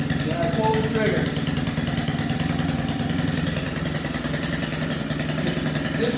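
A gas-powered auger engine runs after a cold start, a loud steady buzzing small-engine drone with a rapid pulsing rhythm close by, holding an even pitch throughout while a person talks over it.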